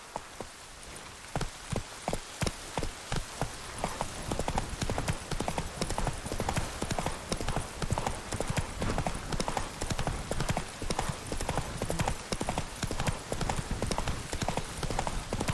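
Hooves of Roach the horse in The Witcher 3 pound in a fast, steady galloping rhythm. The sharp, close strikes run continuously over a soft rain-like wash, and no one speaks.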